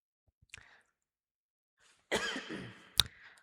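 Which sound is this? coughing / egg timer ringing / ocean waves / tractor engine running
coughing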